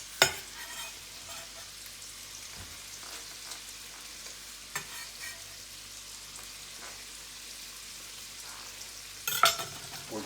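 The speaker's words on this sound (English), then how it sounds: "now that we have the sausage browning up, in goes the" Onion and sausage fry in a pot with a soft, steady sizzle, broken by scattered scrapes and clicks of stirring and a louder clatter near the end; quiet throughout, no talking.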